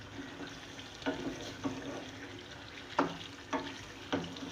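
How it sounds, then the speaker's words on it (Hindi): Beef masala frying in a pan over a raised gas flame gives a steady close sizzle, broken by several sharp stirring scrapes at uneven intervals, with no talking. "अब मैं गैस की फ्लेम बढ़ाकर इसको हल्का सा भूनूंगी"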